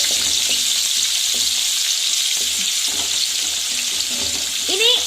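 Banana stem pickle ingredients with garlic and curry leaves sizzle loudly in a hot pan while being stirred, a dense, constant frying hiss with light scrapes of the spatula and no talk.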